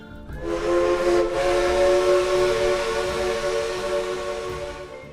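A loud, sustained steam train whistle on the Cass Scenic Railroad blows for several seconds, rich and tonal over a hissing rush of steam, then slowly fades.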